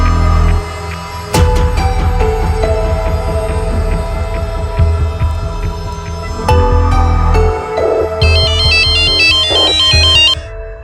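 A phone ringtone plays loudly and close, a repeating electronic melody with a brighter chiming pattern near the end.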